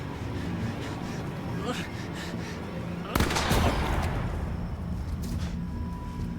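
Video-game gunfire erupts in a sudden loud burst of shots partway through, over ongoing game noise and chatter from players talking.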